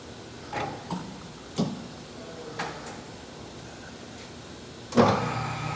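A 14-inch by 40-inch TRAK CNC toolroom lathe with manual handwheels turns its spindle at its lowest speed, 60 RPM. A quiet, steady mechanical hum runs throughout, broken by a few sharp clicks and knocks, with no talk.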